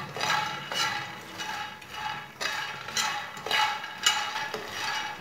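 Whole makhana (fox nuts) stirred and roasted in a pan: a spoon scrapes and rattles the light nuts in repeated rhythmic sweeps, close and clear, with a faint dry sizzle underneath and no talking.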